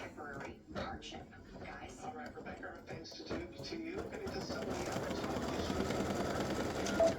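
An embroidery machine stitches an applique design, a steady rapid mechanical whirr building in intensity, with a voice speaking over it early on.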